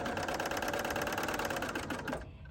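Serger sewing machine stitching over beaded fishing line, a fast steady mechanical whir with rapid even clatter, close and alone, stopping abruptly near the end.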